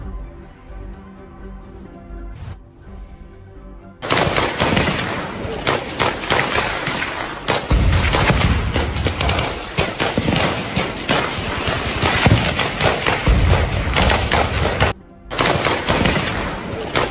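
Security forces trade fire with militants in Rajouri, Jammu and Kashmir: a quieter opening gives way to loud, rapid bursts of gunfire and machine-gun volleys that continue almost without pause, with one brief gap, and no voices.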